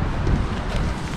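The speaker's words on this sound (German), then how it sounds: "es windet ganz gut." Steady wind blowing across an outdoor microphone, a continuous low rumbling roar with no pauses, loud and close.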